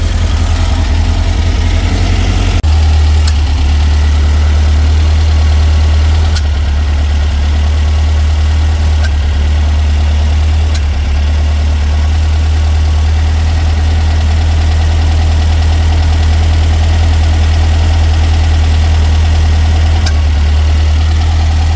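A running engine with a misfiring, popping cylinder and its timing set at 55 degrees advance drones loud and steady throughout, a deep idle rumble broken by several sharp isolated pops spaced seconds apart.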